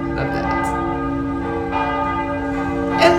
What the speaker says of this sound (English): Some bells, love that.